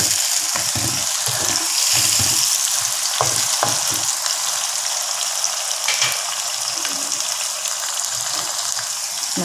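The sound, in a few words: tomatoes frying in a pan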